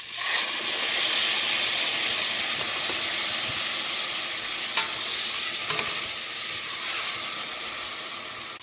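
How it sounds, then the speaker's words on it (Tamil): Ginger garlic paste hits a hot oiled pan while cooking chicken haleem, giving a loud, steady sizzle and hiss with occasional stirring clinks, alone without talk. "இப்போ இஞ்சி பூண்டு பேஸ்ட்டு அவ்வளோ ஊற்றிப்போம்."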